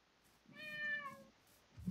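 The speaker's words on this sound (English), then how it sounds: "there's a cat on my head" A cat gives a single clear, drawn-out meow close by, rising then falling, in a quiet room with a soft rustle at the end.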